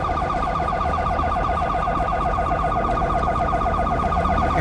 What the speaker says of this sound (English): Siren's getting a little louder.